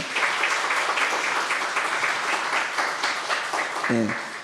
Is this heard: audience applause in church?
yes